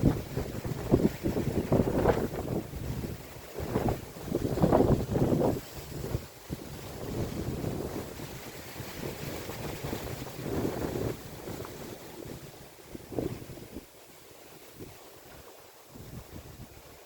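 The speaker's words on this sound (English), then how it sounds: "I will stop talking so you can hear the wind." Strong hurricane wind during Hurricane Melissa roars and buffets the microphone in continuous gusts, surging and easing over time with a rushing, surf-like wash and no talking.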